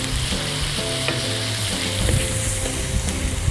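Carrot and cucumber pickle cooking with sugar and vinegar in a pan gives a steady, loud sizzle with stirring scrapes, with a faint tonal hum underneath throughout.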